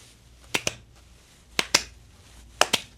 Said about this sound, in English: We're going to just give a slow clap